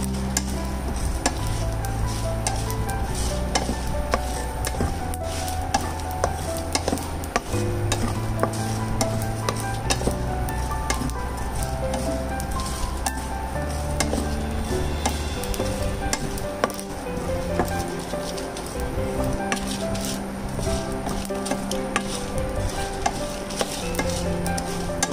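Ingredients for prawn vada sautéing in a pan, with a steady sizzle and frequent scraping and stirring strokes of a spoon against the pan, continuous and close throughout with no talk.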